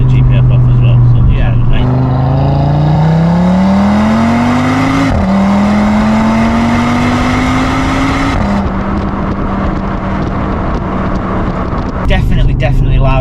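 An Audi RS3 8Y engine with a Milltek aftermarket race exhaust revs up in rising pulls, with a loud, raspy exhaust roar between gear changes; a voice is heard briefly.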